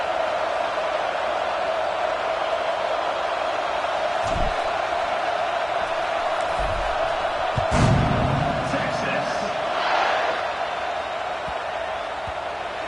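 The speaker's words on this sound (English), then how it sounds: "this crowd is buzzing after that last score" A crowd at an American football stadium keeps up a steady, continuous buzz after a score, with a few brief thuds and louder swells, all under a broadcast commentator's voice.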